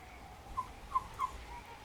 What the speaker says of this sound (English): we gave it a few quick blows